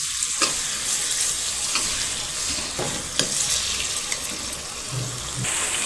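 A spoon stirs a sweet-and-sour mango and bottle gourd curry in a pan, with a steady sizzle under intermittent scraping and tapping strokes, close and without talk.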